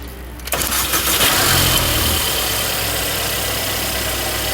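A Mercedes-Benz car with a no-start fault is cranked using a jump box on the starter cable. The starter turns briefly, then the engine catches and settles into a loud, steady idle close by.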